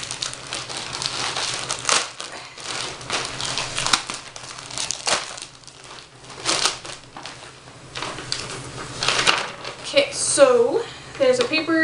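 Crinkling and rustling of a pink plastic package holding 20-inch blonde hair extensions as it is opened up close, irregular bursts of crumpling with a voice talking over parts of it.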